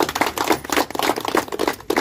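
An audience claps in welcome, a dense, continuous patter of many hands clapping at close range, lively and uneven, with no voices over it.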